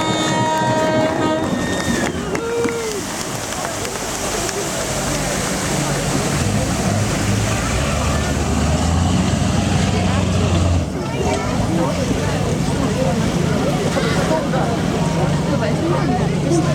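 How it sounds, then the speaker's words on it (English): A Mersey-class all-weather lifeboat with twin engines slides down its slipway at an Arbroath lifeboat station open day, a long dense rushing roar building and swelling loudly, with a voice at the start. "So a big cheers to the lifeboat crew to slide down in the water"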